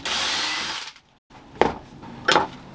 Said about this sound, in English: and then drill out another one.